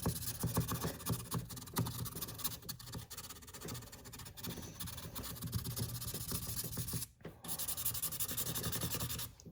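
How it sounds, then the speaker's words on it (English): Continuous gritty rubbing and scraping from hand wet sanding a shotgun loading port, steady back-and-forth strokes, close and fairly loud, with one brief pause near the end. "I think that's good with the wet sanding"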